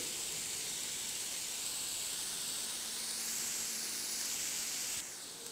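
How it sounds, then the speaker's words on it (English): Onions sauteing in coconut oil over a low flame hiss with a steady, dense sizzle that holds evenly and close, then eases slightly near the end, with no talk over it. "Saute it for 2 minutes in a low flame."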